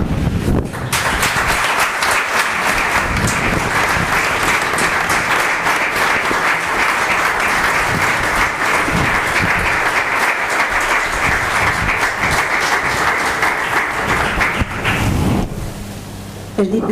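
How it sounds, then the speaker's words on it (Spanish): A large audience gives loud, sustained applause during a formal opening ceremony of the 2017-2018 academic year, honouring a newly invested honorary academician, with dense clapping that holds steady before fading out. "Un aplauso."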